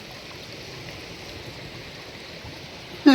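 Rain-swollen stream water rushes in a steady, even wash of broadband flow, moderately close and unbroken, with no voices over it until a brief louder knock at the very end.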